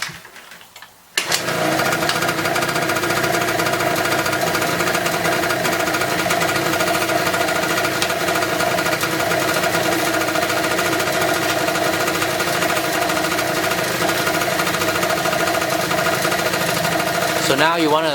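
A motor scooter engine runs steadily at idle while warming up after an idle mixture adjustment, a loud continuous buzzing drone that starts abruptly about a second in and holds nearly constant throughout.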